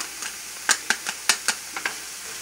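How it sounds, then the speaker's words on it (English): Garlic goes into a pan of sweated, browned onions for a lentil loaf, giving a faint sizzle broken by a handful of crisp spoon clicks against the pan, near and uncluttered. "We're now going to add our garlic."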